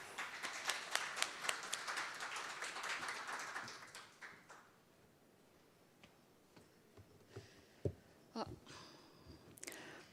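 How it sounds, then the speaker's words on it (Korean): At a financial crime prevention seminar, an audience claps to welcome a police officer presenting. About four seconds of scattered, fairly faint clapping die out into a quiet room with a few small knocks and shuffles. "여러분 큰 박수로 맞이해 주시기 바랍니다."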